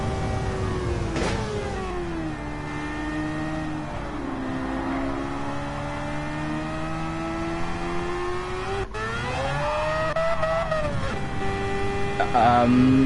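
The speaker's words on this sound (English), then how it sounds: "This is one noisy car." A car engine drones and revs steadily in Gran Turismo 7, its pitch rising and falling through gear changes, loud and close, with a brief sharp clunk midway.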